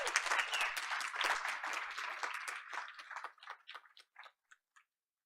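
An audience at a school board of education meeting claps in a dense, fairly distant burst that thins into scattered individual claps before fading to silence.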